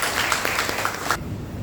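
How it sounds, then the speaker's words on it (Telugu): Short burst of applause for volunteers at a Sai devotional gathering, clapping for about a second before cutting off abruptly. "చప్పట్లు వాళ్ళందరికీ."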